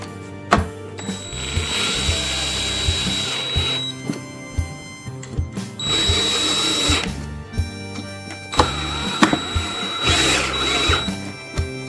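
A power drill tightens screws on a controller plate in three bursts of whirring, each ending in clicking clutch ratchets, with handling clunks between runs.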